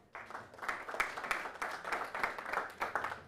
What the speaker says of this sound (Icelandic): má vera kannski meira klapp næst